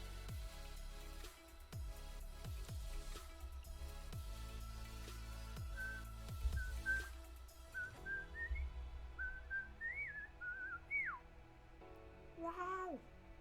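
Someone whistles the bouncy Ed, Edd n Eddy theme, starting under rhythmic background music and then carrying on alone with rising and falling notes.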